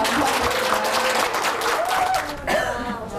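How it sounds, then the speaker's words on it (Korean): An audience in a Korean broadcast studio applauds a guest's entrance, a dense, steady wash of clapping lasting throughout, with faint voices and a brief tonal sound mixed in beneath it. "큰 박수로 감사합니다."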